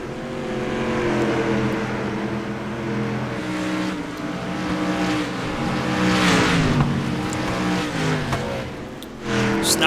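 Dirt track race cars roar around the oval at Oswego, engines rising and falling steadily as they run loose into the corners, loud and continuous with a faint commentator voice underneath.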